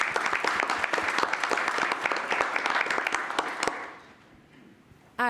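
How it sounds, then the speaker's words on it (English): A city commission meeting audience breaks into a round of applause after a Medal of Honor day proclamation. Steady, lively clapping runs for several seconds, then fades to room quiet before a voice begins. "Please join me in a round of applause."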